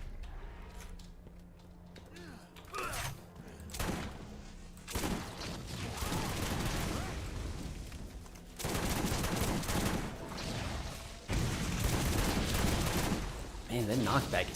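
Gunfire in the video game Borderlands comes in rapid bursts and heavy volleys, loud and dense, with someone talking between and over the shots.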